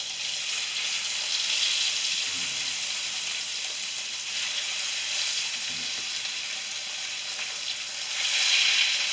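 Salmon laid skin side down in brown butter fries with a loud, steady, hissing sizzle close by that swells slightly near the end.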